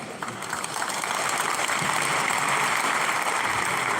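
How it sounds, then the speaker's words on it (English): Sustained audience applause at a university funding sensitization event, a steady dense wash of clapping holding at even loudness throughout with no voices on top. "Let's sustain the applause for the registrar."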